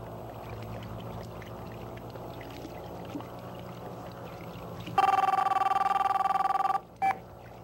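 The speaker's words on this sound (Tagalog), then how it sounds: "Boss, telepono. Para sa inyo." A telephone rings with a steady electronic trill that goes on for about two seconds, stops, and then gives one more short burst over quiet room ambience, loud and near.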